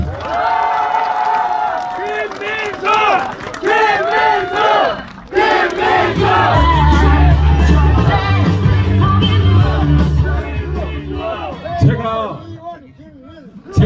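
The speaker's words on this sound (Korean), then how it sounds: "박수 쳐주십시오" A crowd at a political rally in Korea claps and cheers loudly, with yelled chants and voices mixed into sustained applause that fades near the end.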